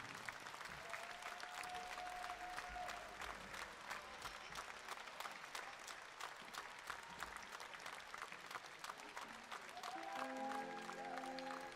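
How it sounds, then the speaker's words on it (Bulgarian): A concert crowd in Ruse gives sustained, loud applause for the Alexander Rusev Foundation, steady clapping running the whole stretch, with brief tonal sounds near the start and end. "Силни аплодисменти за фондацията Александър Русев."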